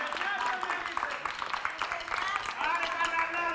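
Applause from a studio audience on a Greek midday TV show comes as quick, uneven clapping, while a presenter's voice carries on talking over it.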